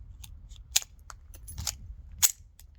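A Taurus TX22 pistol is handled to clear a malfunction: quiet, sharp metallic clicks and clacks of the slide and parts, a few distinct snaps over a faint background.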